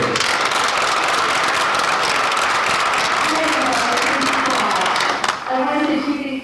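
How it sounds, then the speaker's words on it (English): An audience at an International Hominology (Forest People) conference in 2023 applauds the day's final presenter: a dense, steady wash of clapping that cuts off near the end as a voice starts to speak. "So please, everybody, round of applause for our final presenter for today, Robin McCRAY."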